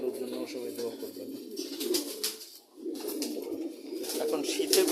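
Several pigeons coo steadily up close in a low, murmuring chorus that dips briefly in the middle, with faint chirps above.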